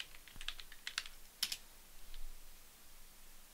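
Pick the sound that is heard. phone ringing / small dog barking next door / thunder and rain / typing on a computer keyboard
typing on a computer keyboard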